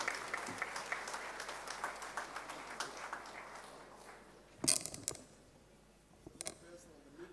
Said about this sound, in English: let's put our hands together and give a big round of applause to our guest of honor